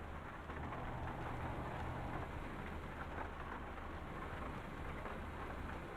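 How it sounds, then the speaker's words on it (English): Steady rain falling in the Euro Truck Simulator 2 driving game, a constant even hiss with a low rumbling undertone, soft and unbroken with no talk. "this rain's not enough coming down"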